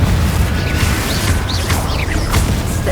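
Confringo fire spell blasting in Hogwarts Legacy, a loud sustained rumble of booms and crackling bursts with whooshing high swirls, dense and continuous without a break.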